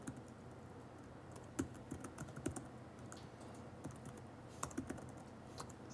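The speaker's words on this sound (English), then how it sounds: "Sorry, I'm typing slow." Keys clatter on a computer keyboard in irregular bursts of clicks, soft and close, over a faint room hum with no talking.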